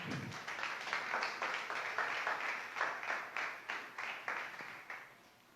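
Quiet rhythmic clapping during a church worship service, a congregation beating hands together in a steady, evenly spaced pulse, faint and somewhat distant, continuing throughout.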